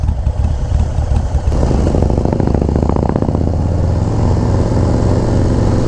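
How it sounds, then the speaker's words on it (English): A 2024 Harley-Davidson Street Glide with a 135 engine rumbles loudly up close, its deep, throbbing exhaust note swelling sharply as the rider accelerates and then holding a heavy, steady roar. "Anybody with a brand new model road glide or street glide needs this motor in the bike."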